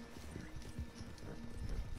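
Horse hooves clip-clop in the video game Red Dead, a steady rhythmic trot of close, fairly soft hoofbeats over low background noise.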